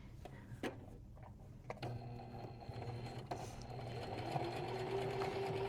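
A Singer 4452 sewing machine stitches a seam across folded denim, its steady mechanical whir running close and continuous for several seconds, growing slightly busier toward the end with a faint high tone.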